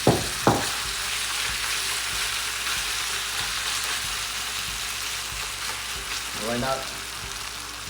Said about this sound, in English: Make sure you stir fry it.